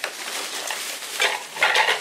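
Metal lid clattering and clinking against frying pans, a few close bright knocks and scrapes with a louder cluster near the end, no talk.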